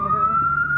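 A fire engine siren sounds at a blaze at a large garbage dump in Caotun, Nantou County, a single steady, slightly rising wail that is loud and close for a brief moment.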